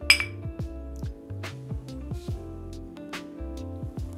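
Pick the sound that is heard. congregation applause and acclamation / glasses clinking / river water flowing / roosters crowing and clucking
glasses clinking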